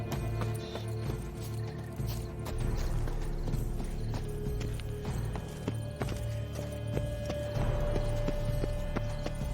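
Rhythmic horse hooves clip-clopping at a steady trot in The Witcher 3, layered over a continuous game music and ambient bed, with no voices.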